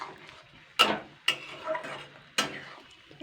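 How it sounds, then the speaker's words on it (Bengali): A spatula stirs chalta (elephant apple) and sugar in a pan for a dry pickle, with three distinct scraping strokes against the metal over a soft sizzle. "খুন্তিটা দিয়ে কিন্তু চালতেটা এইভাবে অনবরত নাড়তে হবে"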